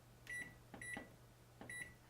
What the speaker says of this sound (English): we're going to set it off into the microwave